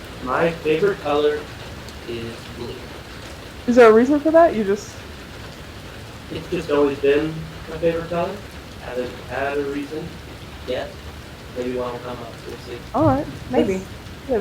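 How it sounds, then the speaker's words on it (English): Steady rain falls in the background as a soft, continuous hiss beneath a conversation between two people talking throughout. "we apologize for the rain sounds in the back"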